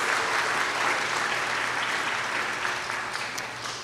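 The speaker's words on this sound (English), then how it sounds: "Round of applause." A hall audience at a secondary school convocation ceremony claps in steady, dense applause, loud at first and tapering gradually toward the end.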